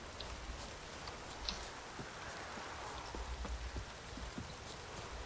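Steady rain pattering down in The Witcher 3 video game, a dense continuous hiss with scattered drops, low and even throughout with no talk.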